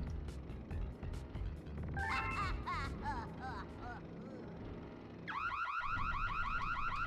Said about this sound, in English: Hey, who car alarm is that?